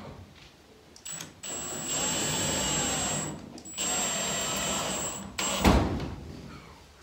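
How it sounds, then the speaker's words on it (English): A power drill whirs in several bursts with pauses between, driving screws into a wood backing under a steel roof, followed by a sharp knock near the end. "I'm going to grab a drill and a couple of screws"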